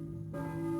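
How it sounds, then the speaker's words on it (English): A church bell tolls in the Silent Hill video game, a single sustained, resonant strike entering partway through and ringing steadily with a bright humming tone. "we're going to be heading towards that church bell"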